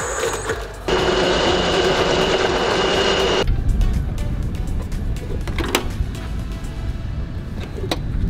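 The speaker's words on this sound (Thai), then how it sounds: "นี่คือรถบังคับที่จะดึงเครื่องบินออกจากแฮงเกอร์นะครับ" An aircraft tug pulls a fighter jet out of a hangar: a loud steady mechanical whine with a tonal hum starts abruptly, runs about two and a half seconds, then cuts to rumbling engine noise and scattered clanks.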